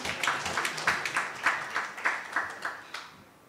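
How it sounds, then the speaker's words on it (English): Audience at a science forum applauding: a small crowd's fairly loud clapping with a rhythmic, slightly uneven pulse that fades toward the end, with no speech over it. "Let's clap for them"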